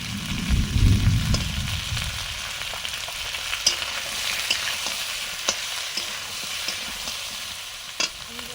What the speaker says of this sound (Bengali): এবারে ঝিঙে দিয়ে দিলাম